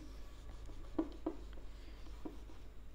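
A pen writes numbers by hand on paper while a math problem is worked out, a few faint scratchy strokes and taps, close but quiet over a low hum.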